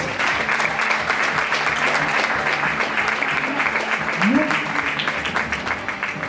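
Loud, sustained applause from spectators greeting a women's football player at an all-star match, thick steady clapping with brief voice-like sounds rising briefly near the end.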